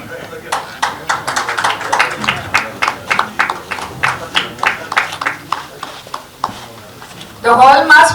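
An audience in a hall applauds at a formal ceremony honouring dignitaries, with steady, fairly loud clapping that keeps an even, pulsing rhythm for several seconds before a voice starts speaking near the end.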